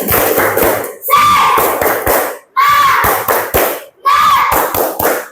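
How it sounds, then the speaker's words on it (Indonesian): Schoolchildren in an Indonesian classroom perform a rhythmic spirit clap, crisp hand claps and thumps in a steady patterned beat, with young voices chanting in short bursts between the claps. "Nah, tepuk semangat."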